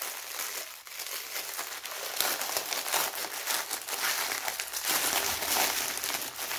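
Plastic packaging of a diamond painting kit is torn and crinkled open, a steady crackling rustle running close and loud for several seconds with no talk.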